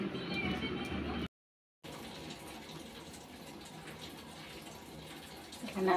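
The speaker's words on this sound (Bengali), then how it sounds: "এখানে এখন কুকারে জল দিয়েছি" Water gushes and splashes into a pressure cooker in a home kitchen, a steady filling flow after a brief gap, ending with a few light clinks.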